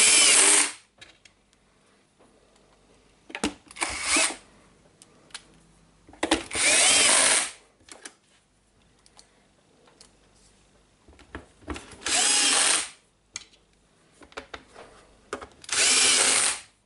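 Power drill on a Nilfisk Alto vacuum cleaner housing with a rubber mount, running in four loud whirring bursts of one to two seconds each, separated by quiet pauses.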